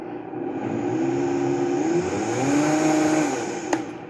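A blender gives a quick whirl, mixing protein powder into butter coffee (bulletproof coffee); a steady loud motor whir runs for about three seconds with pitch shifting as it spins, then a small clunk near the end.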